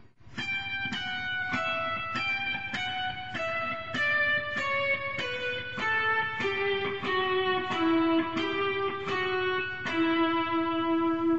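A guitar plays a steady single-note melody from Pachelbel's Canon in D, each plucked note ringing clearly in an even rhythm, descending gradually across the phrase, with no talking.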